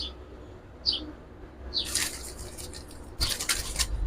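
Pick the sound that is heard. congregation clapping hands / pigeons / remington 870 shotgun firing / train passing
pigeons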